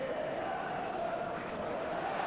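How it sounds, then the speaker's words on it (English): A football stadium crowd at a Chelsea vs Liverpool UEFA Champions League final gives a steady, distant roar of appreciation, a broad wash of voices and applause with no single voice standing out. "Crowd appreciates good football all round there."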